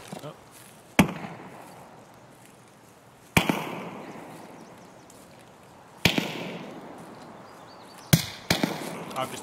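Gunshots in a shooter video game echo from a bunker stairwell, four or five sharp cracks spaced a couple of seconds apart, each trailing off into reverberation while voices talk in between.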